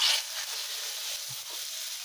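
Onion paste sizzles steadily in hot oil in a pan after a tempering of dried red chillies, bay leaves and five-spice, a continuous close hiss with faint stirring knocks and no voices.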